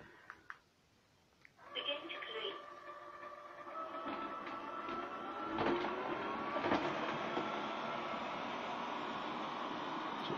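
A LIECTROUX B6009 robot vacuum in quiet mode starts up and keeps up a steady whirring hum with light clicks and rattles as it passes from tiled floor onto carpet, picking up crumbs and pepper, close by.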